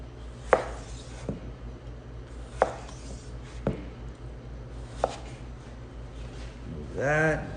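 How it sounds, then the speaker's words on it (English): A knife chops a potato into bâtonnet sticks on a cutting board, making sharp, spaced single chops at irregular intervals while a person talks throughout. "I'm gonna show you how to do a knife cut called bâtonnet"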